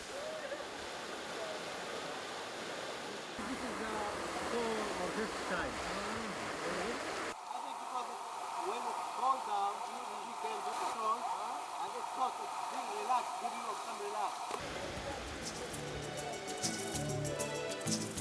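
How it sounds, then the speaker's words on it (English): A hot spring waterfall in Jordan drops 30 meters, giving a steady, broad rushing roar of falling water that holds throughout, with shifts in tone and level between sections. "The water falls from a height of 30 meters"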